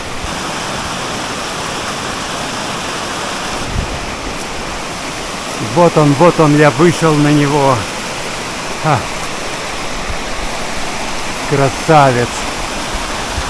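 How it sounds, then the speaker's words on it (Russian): Steady rushing roar of a waterfall fills the whole clip, close and loud, with someone speaking briefly over it in the middle and near the end. "Очень красивый водопад."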